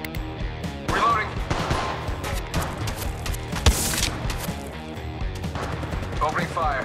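Rapid weapon fire in the mobile battle royale game Apex Legends Mobile, dense bursts of gunshots with in-game voice lines and effects layered over them, loud and continuous.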